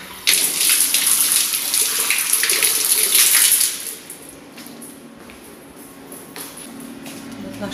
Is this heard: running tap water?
yes